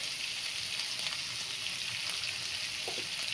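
Salt roasting on a hot griddle pan before onions are added, giving a steady, even frying hiss throughout with faint scraping, close and consistent.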